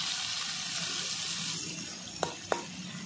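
Large salted, turmeric-coated shrimp frying in hot oil in a wok, a steady close sizzle throughout, broken near the end by two short clanks.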